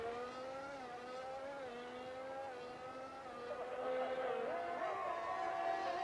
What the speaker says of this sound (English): Very quick, the car shifts up through the gears.